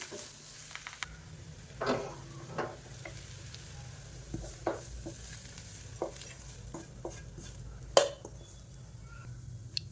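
Tempering being stirred into batter for Karthigai Deepam paniyaram prasadam, with faint sizzling and scattered spoon scrapes and clinks against a vessel throughout, close and fairly quiet with no talking.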